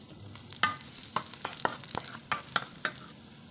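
Garlic and onion sauté in a little oil in a pan for pork and chicken adobo, with a quiet sizzle broken by repeated sharp scraping strokes of a utensil stirring at an uneven rhythm.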